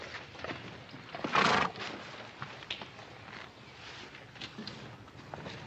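A horse that has lost its left front shoe gives a short, loud whinny early on, followed by quieter shuffling and scattered hoof sounds nearby.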